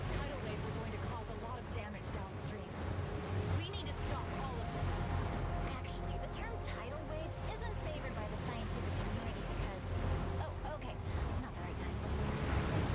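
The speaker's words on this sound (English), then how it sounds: "Oh no, the waves!" Ocean waves wash continuously in the video game Dawn of the Monsters, a broad steady rush of surf with wind-like noise throughout, while people talk over it.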